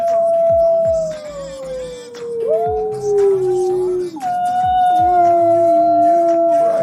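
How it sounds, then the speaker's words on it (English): A wolf howls in long, sliding, mournful tones, one drawn-out call falling and then rising again, loud and close, with faint background sounds beneath. "the first howl of the day. Listen to this."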